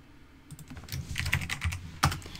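Keys clatter on a computer keyboard in an uneven burst of typing, with one sharper, louder keystroke near the end, heard alone without voices.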